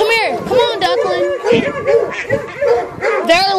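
Several dogs bark, yip and whine together, close and loud in continuous overlapping excitement, with someone talking over the commotion.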